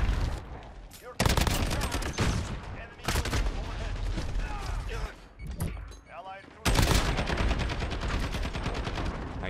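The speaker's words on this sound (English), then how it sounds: "Shooting gun." Dense gunfire in a Call of Duty Modern Warfare Domination match on Shipment, with loud close bursts of rapid shots broken by brief gaps.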